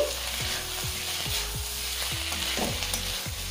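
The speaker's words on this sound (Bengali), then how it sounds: "সব শেষে দিচ্ছি 1 মুঠি ধনেপাতা কুচি। তারপর একটু নেড়েচেড়ে দিচ্ছি।" A spoon scrapes and stirs sizzling spring onion stir-fry with chopped coriander in a frying pan, steady frying hiss under regular stirring strokes about twice a second.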